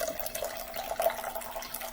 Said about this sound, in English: I'm putting in water, but at the same time I'm trying to control the flow of the water.